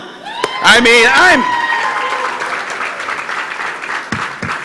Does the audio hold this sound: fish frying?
no